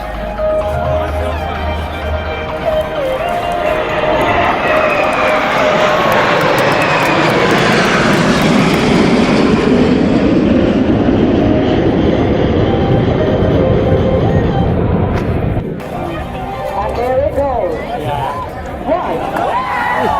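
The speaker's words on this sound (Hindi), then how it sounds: "भारत का गौरव लाइट कॉम्बैट एयरक्राफ्ट तेजस फॉर्मेशन।" Jet engine roar from a formation of Tejas light combat aircraft passing at an air show, building to a loud broad rush mid-pass and then fading away, with a crowd and commentary voices heard beneath.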